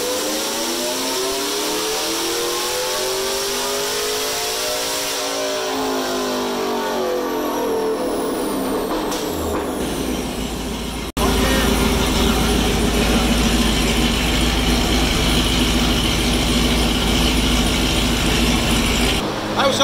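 A turbocharged V6 Chevrolet Silverado runs on a dyno: engine pitch sweeps up and back down through a rev, then a loud, sustained full-throttle roar holds steady through the second half.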